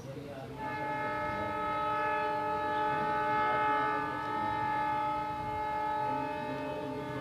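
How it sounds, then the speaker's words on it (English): A train runs in India with its horn sounding, a long loud sustained blare over steady rumbling wheels, close by and lasting nearly the whole stretch. "now the train sound is because in India trains are running here"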